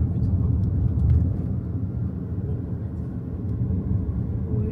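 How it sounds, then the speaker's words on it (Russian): An airplane passes overhead beside a yacht club on a clear day, a steady low rumbling drone that swells slightly early on and then holds at moderate distance, with people talking nearby. "Вы видите самолет?"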